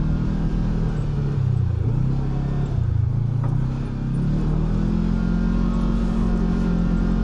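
A 2026 Kawasaki Teryx KRX4 1000 eS side-by-side drives along a trail, its engine droning loud and steady with a low rumble and slight pitch dips as the throttle shifts, no voices.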